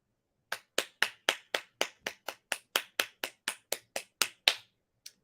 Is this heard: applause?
yes